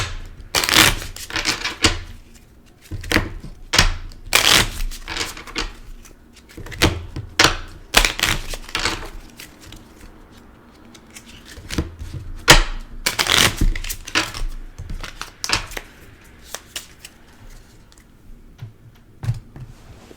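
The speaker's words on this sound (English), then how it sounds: "shuffle the cards" A deck of cards is shuffled by hand for a solo tabletop dungeon card game, giving repeated riffling bursts of crisp fluttering clicks, close and fairly loud, with brief pauses between shuffles.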